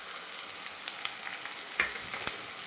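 Garlic and green chillies frying in hot oil give a steady, close sizzle with faint crackles and a few sharper spits, with no voice over it.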